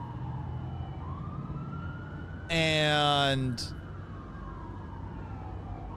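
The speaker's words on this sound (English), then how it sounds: "You got a police car. You got a police car. You got a fire." Emergency vehicle sirens wail on a neighborhood street, a police car and a fire truck, one siren sweeping steadily in the background while a louder, nearer siren blast cuts in for about a second, under a little talk.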